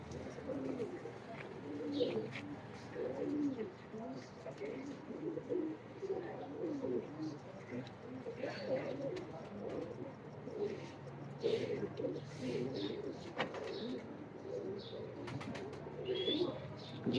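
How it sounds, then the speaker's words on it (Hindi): Rooftop pigeons coo in soft repeated bursts, fairly close and continuous, with faint chirps mixed in and a low murmur of background noise. "ये कबूतर देखिए, ये देखना कबूतर छत वाला।"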